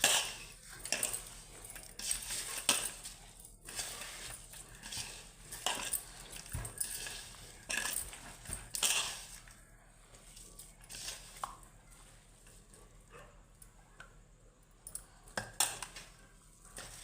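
Onion mango pickle with sesame paste being mixed in a bowl, with soft, irregular clinks of a spoon against the dish and wet squishing, quiet and close, with no voices.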